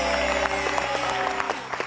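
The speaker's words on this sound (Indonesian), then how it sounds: "Keren, tepuk tangan lagi dong untuk damkar." Audience applause for firefighters at a backstage talk-show taping, a short steady burst of clapping throughout with no talk over it.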